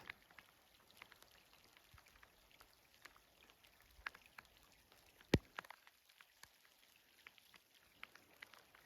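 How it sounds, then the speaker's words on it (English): Light rain falling during a backpacking trip along the Red Deer and Clearwater rivers, scattered close drops tapping at irregular intervals over a faint, steady patter, with one sharper hit standing out, no voices. "it's starting to rain again"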